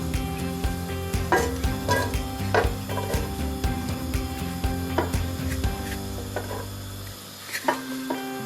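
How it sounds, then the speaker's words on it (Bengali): Onion goes into a little oil in a pan for a hilsa fish and ash gourd dish, giving a steady sizzle with repeated scraping and stirring knocks, close and continuous, easing off near the end. "সামান্য দেব, খুব বেশি তেল দরকার নেই। দিয়ে দিচ্ছি আমি পেঁয়াজটা।"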